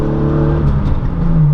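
A Porsche sports car engine revs loudly and close by during heel-toe downshifts, its rich droning tone climbing and dipping briefly.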